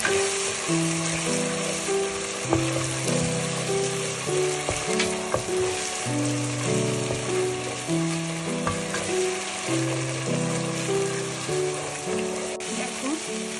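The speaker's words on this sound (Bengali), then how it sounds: "দিয়ে এবার কষাতে হবে, এটাকে ভালো করে কষাতে হবে" A paste of ground tomato and onion sautéed in a pan for Kolkata-style chicken bharta, giving a steady, close sizzle with occasional stirring scrapes and faint tonal background music throughout.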